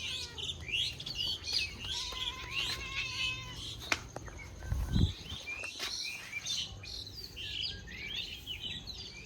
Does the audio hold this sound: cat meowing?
yes